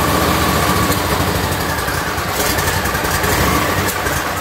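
A Swisher 2760B zero-turn mower's small engine runs with the throttle on its lowest setting. It gives a loud, close, continuous rough chugging drone that wavers slightly, with no voices.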